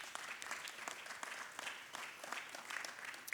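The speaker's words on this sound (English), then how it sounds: "So I'd like to give you a round of applause for that." Dense applause from a crowd at a community meeting, steady and continuous throughout, heard at a distance without any voices.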